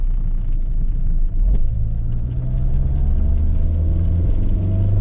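A Rover 75 Tourer diesel engine rumbles loudly and steadily, pulling hard on kickdown with a rising drone as it accelerates, close by with no talking.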